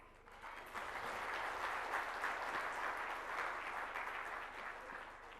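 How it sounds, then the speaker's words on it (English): An audience at the CII food safety award ceremony claps in a steady round of applause, rising quickly, holding for several seconds at moderate distance, then tapering off, with no talk. "Now do exemplify with a round of applause."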